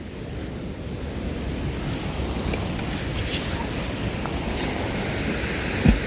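Rushing water from a river waterfall at a magnet fishing spot, a steady broadband roar that holds level throughout with a little wind buffeting the microphone and one brief bump near the end.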